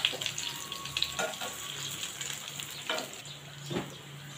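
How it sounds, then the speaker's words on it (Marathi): Brinjal masala fry sizzling steadily in a pan over a slow flame, with a continuous frying hiss and a few soft stirring scrapes and clicks close by, no talking. "आता या साईडने पण चांगली फ्राय करून घ्यायची आहेत."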